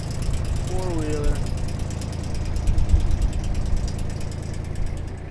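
A four-wheeler engine idles near Big Lake, Alaska, a steady low rumble with a slight rough pulse that swells briefly midway, while a voice speaks briefly over it early on.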